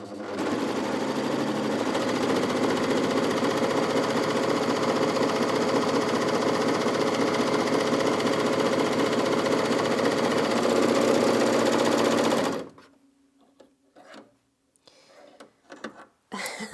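A Bernette b68 overlocker stitches through bulky fleece with a steady, loud, continuous mechanical whir that runs for about twelve seconds, then stops abruptly and leaves near silence with a few faint handling sounds.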